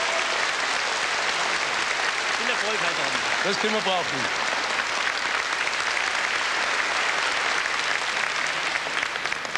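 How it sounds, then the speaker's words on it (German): Studio audience applauding at an ORF New Year's Eve variety show from the 1980s, a dense steady wash of clapping throughout, with a voice speaking briefly over it partway through. "Ihr Applaus."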